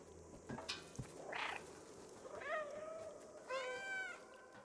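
Cat meows in the video game Stray, several distinct rising and falling calls spaced apart, with a faint purring texture and soft background ambience, no talking.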